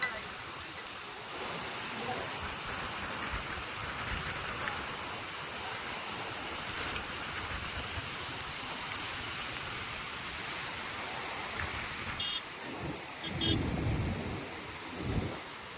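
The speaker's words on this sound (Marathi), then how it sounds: "जोरात पाऊस आलेला आहे मित्रांनो" Steady heavy rain roars as a dense wash of noise throughout over the flooded Godavari River at Mahegaon Deshmukh, with a few louder bursts near the end; no distinct thunder claps stand out.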